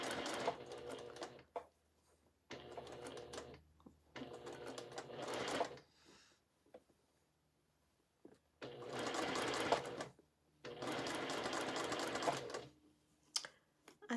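A sewing machine stitches curved quilt pieces in several steady rapid bursts of mechanical chatter separated by pauses, fairly quiet and close, with no talking.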